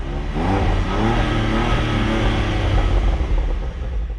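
A BMW M2 CS or Jaguar F-Type Coupe engine revs steadily and loudly up close at a drag race launch, a continuous throaty roar with rising and falling pitch and no voices.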